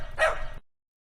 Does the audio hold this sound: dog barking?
yes